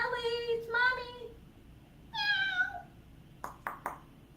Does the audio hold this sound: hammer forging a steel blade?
no